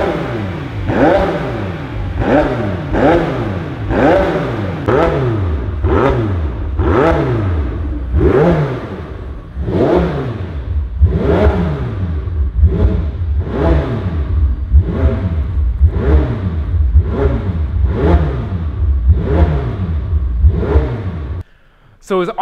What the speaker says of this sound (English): After about 5 failed attempts to get this thing into the loud start mode, we finally figured it out.